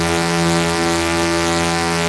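A saxophone sounds one sustained low note, blown very loud, a dense buzzy foghorn-like tone held steady and close with no pauses or talk.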